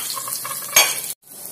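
Garlic, shallots and chili sizzling in a pan with a steady frying hiss, a sharp stirring scrape partway through, then a sudden cut to near silence.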